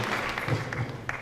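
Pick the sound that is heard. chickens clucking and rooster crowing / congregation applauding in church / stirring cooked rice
congregation applauding in church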